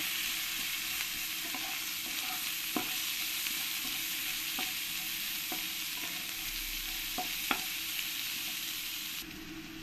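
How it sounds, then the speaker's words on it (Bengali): Onions fry in hot oil in a pan with a steady close sizzle, broken every second or so by sharp scrapes and taps of a spoon stirring them, with no talking. "পেঁয়াজগুলো আমি বেশ লাল লাল করেই ভেজে নেব"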